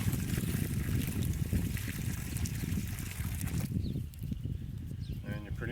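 Water poured from a container into a dug fence post hole on an off-grid homestead, a steady close splashing gush that runs continuously, easing slightly near the end where a brief voice is heard.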